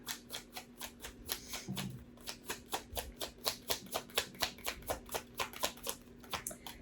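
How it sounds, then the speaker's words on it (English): Astrology cards are shuffled in a quick, steady run of soft riffling flicks, around three per second, close and fairly quiet, with a faint hum underneath and no talking. "So let's close out the reading with some astrology cards."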